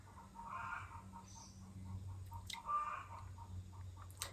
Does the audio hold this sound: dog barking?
no